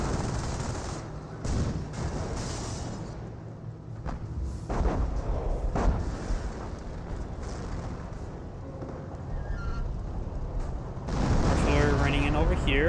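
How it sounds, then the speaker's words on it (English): An artillery barrage pounding a German Puma armored car in Company of Heroes, with repeated booming blasts and crackling gunfire under a caster's steady commentary. "Artillery running in over here, hitting the Puma a little bit."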